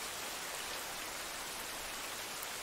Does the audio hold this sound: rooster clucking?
no